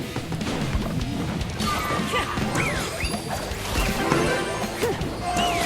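A mortar attack in the mobile strategy game Clash Royale lands amid busy battle effects, with smashing impacts, whacks and squeaky unit noises layered over a dense, continuous game soundscape.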